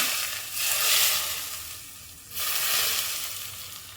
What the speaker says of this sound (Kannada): ನಾವು ಸ್ವಲ್ಪ ಕಾಯಿಸಿಟ್ಟಿರೋ ಎಣ್ಣೆ ಒಂದೆರಡು ಟೇಬಲ್ ಸ್ಪೂನಷ್ಟು ಸೇರಿಸ್ಕೊಳ್ಳೋಣ